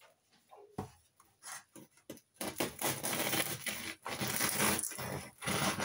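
A knife saws through a homemade loaf of rustic bread, giving a series of close, crackly crunching strokes: a few short bursts first, then denser continuous scraping through the crust.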